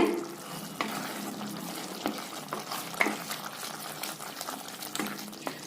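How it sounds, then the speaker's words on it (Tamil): A pan of curry leaf kulambu with ground curry leaf paste is stirred steadily, giving a continuous wet bubbling and sloshing with a few spoon knocks against the pan. "அந்த இலையை சேர்த்திடலாங்க இதோட சேர்த்து நல்லா கலக்கி விடலாங்க"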